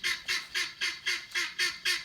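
Seven evenly spaced honks from a goose, loud and close, repeating about every quarter second with no talk over them.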